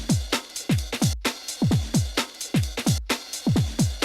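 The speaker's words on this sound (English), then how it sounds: "So bringing in that offbeat hat sounds like this." A breakbeat drum loop for a remake, thumping kicks and snares with an offbeat hi-hat sample layered in, playing loud and steady in a tight repeating groove.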